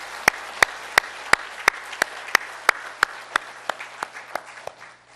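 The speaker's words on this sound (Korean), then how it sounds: "우리 찬양대와 그리고 우리에게 이 은혜를 주신 하나님께 먼저 감사와 찬양의 영광의 박수 올려드리시면서" A church congregation claps in unison for the choir during a Sunday sermon, about fourteen evenly spaced sharp claps in a steady rhythm that grow softer toward the end, with no talking.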